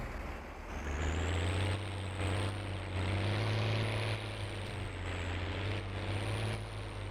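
Farming Simulator 19 tractor engine running steadily with a deep, continuous low drone and a faint high whine, holding fairly constant with slight surges in load.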